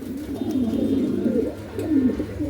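A tiger grizzle pigeon from a BRFC club coos softly at close range in low, rolling murmurs, a continuous throaty warble with a brief dip midway and no talking.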